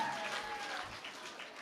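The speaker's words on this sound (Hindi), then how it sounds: "जोरदार तालियां बजाओ।" Audience applause at a Hindi comedy poetry gathering, a steady wash of many hands clapping at once, heard from within the crowd without a break for the whole moment.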